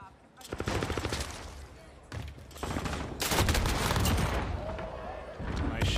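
Rapid bursts of gunfire from a Call of Duty esports semi-final match between Chicago Huntsmen and Florida Mutineers, loud and nearly continuous, with a commentator's voice running over the shots.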